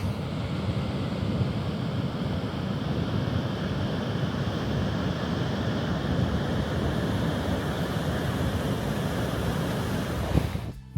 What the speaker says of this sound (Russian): звук прибоя и свист ветра создает очень необычную звуковую атмосферу